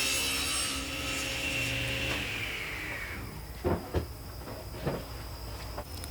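A power saw whines steadily while cross-cutting a wooden sled panel to length, then winds down, followed by a few close wooden knocks and clunks.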